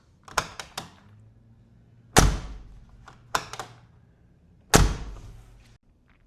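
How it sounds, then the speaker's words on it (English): Doors on a 2007 Mercedes G55 AMG shut with heavy, solid thunks: a few lighter clicks and latches, then two loud slams a couple of seconds apart, each with a short metallic ring, no talking. "The second reason is the doors. Listen to this."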